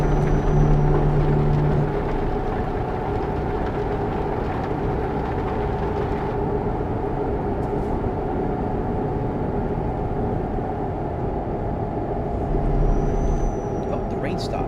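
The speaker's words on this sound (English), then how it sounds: "the engine sound and the rain" A car engine drones steadily under continuous rain in a driving simulator game, a constant rushing wash with a faint hiss, while a person talks over it.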